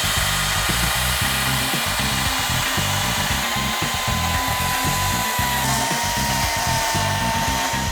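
Continuous high, buzzing chainsaw motor cutting into a block of ice for a sculpture, loud and close, droning steadily without a break.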